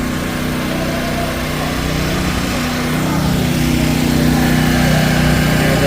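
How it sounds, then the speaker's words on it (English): Generator running steadily after a hurricane in Montego Bay, Jamaica, a loud continuous engine drone with a strong low hum, close by and holding level throughout with no talk. "There's a generator."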